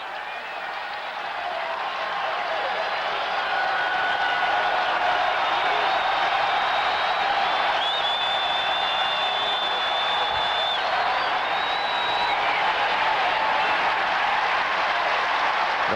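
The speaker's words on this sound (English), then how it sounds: "Now listen to the crowd noise." Football stadium crowd at a 1994 Fresno State versus Oregon State college game on third down, a sustained roaring wash of many voices with whistle-like tones rising above, steady and loud throughout.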